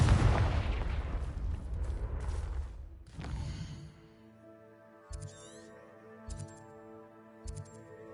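A blasting curse explosion in the video game Hogwarts Legacy, a loud, rumbling boom with a rolling low-end tail that fades over several seconds, followed by quieter rhythmic thuds and chimes of game music.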